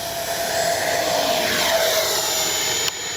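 An FMS Avanti V3 70mm electric ducted-fan RC jet with a KM Models afterburner roars steadily on its takeoff run, a loud continuous whooshing whine that holds throughout and cuts off abruptly near the end.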